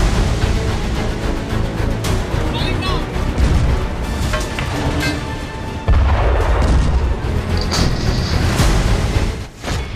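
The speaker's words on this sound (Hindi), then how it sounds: "M777 अल्ट्रालाइट होवित्जर तोप।" An M777 ultralight howitzer artillery gun fires with heavy deep booms over dense, loud blast noise and rumble, with a strong new blast around the middle and sharp cracks near the end.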